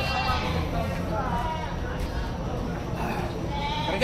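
A goat bleats several times among people talking nearby at a livestock market, the calls rising briefly above the chatter and outdoor noise.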